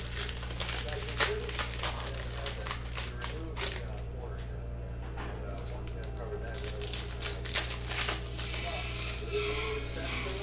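A 2019-20 Panini Mosaic basketball cello pack is torn open and its wrapper crinkles, with dense crackly rustling throughout under a steady low hum and intermittent talk.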